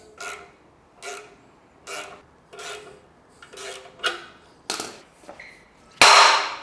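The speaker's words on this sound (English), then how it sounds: "We'll use the hydraulic ball joint popper." A hydraulic ball joint popper worked on the suspension of a V12 BMW 850i, a series of rhythmic ratcheting pumps roughly once a second, close and metallic, ending in a loud sharp pop as the joint releases.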